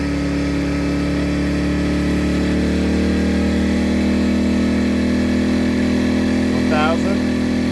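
A Harbor Freight Predator 1400 inverter generator runs steadily under an electrical load test, a loud continuous engine drone that rises slightly in pitch partway through, with a brief faint chirp near the end.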